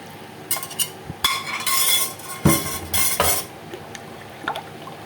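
Melted sugar and milk are stirred together in a bowl, giving repeated clinks and scrapes of a spoon against the bowl in uneven bursts, close and fairly loud, with no talking.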